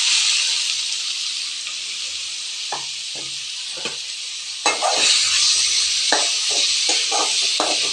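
Finely chopped onions fry in hot oil with a constant close hiss, punctuated by scraping stirs that grow busier and louder partway through.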